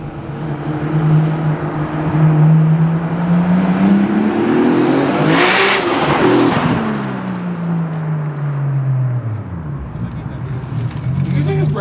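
A 750-horsepower 2.8-liter RB26DETT engine in an R32 GT-R with a big Garrett T78 single turbo revs up and down loudly and close, rising to a peak then easing off with a whooshing blow-off.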